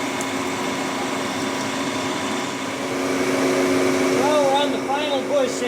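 A metal lathe roughs out the bore of a steel bushing for a Volvo L220 bucket link, giving a steady machine drone with tonal hum and a rising squealing whine near the end.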